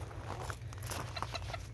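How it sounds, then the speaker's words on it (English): A rooster in a spring garden clucks and crows in short, close bursts over a steady low background hum, with no talk over it. "He's a cute rooster."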